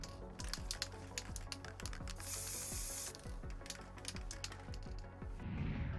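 Spray undercoat hisses from an aerosol can onto miniature models in short, repeated close bursts, with the nozzle clicking and a longer continuous spray in the middle.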